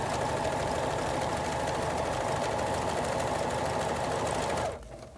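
A sewing machine stitches decorative corded scallops with a fast, continuous mechanical whirr, loud and close, then stops abruptly just before the end.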